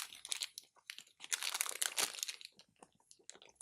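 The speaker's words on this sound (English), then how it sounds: "You might even hear the sprinkles crunching." Close, loud crunching and crinkling while someone chews a dark chocolate mint protein bar topped with sprinkles, with a dense, continuous run of crackly bites and no talk.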